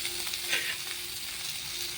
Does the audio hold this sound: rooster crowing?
no